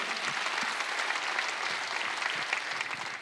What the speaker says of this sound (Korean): 박수 하나 더 주세요.